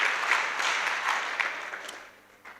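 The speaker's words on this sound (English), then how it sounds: "Let's give a big round of applause to all our officials for a great outstanding work." A crowd at a youth parliament session in Mpumalanga applauds officials: a short burst of mixed clapping that swells briefly, then gradually fades.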